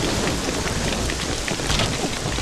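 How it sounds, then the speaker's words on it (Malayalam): Heavy rain pouring down steadily and loudly, a dense close wash of drumming drops on surfaces with a low rumbling undertone, with no voices. "നല്ല മഴയുടെ ലക്ഷണമുണ്ട്."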